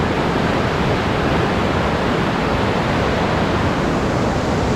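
A swollen provincial river runs high after light drizzle, a steady loud broadband rush of water filling the whole stretch without pause and with no voices.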